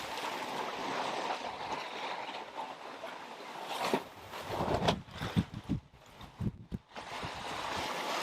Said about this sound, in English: And the sound of our floppy spinnaker